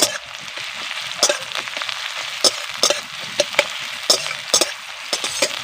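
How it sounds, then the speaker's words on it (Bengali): Chopped onions frying in hot oil in a pan just used for browning hilsa fish, a steady close sizzle broken by repeated sharp stirring scrapes and clatters, with no talking. "এবার কেটে রাখা পেঁয়াজ দিয়ে দিচ্ছি"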